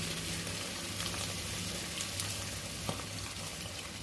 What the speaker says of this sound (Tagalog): Lagyan na din natin ng tubig.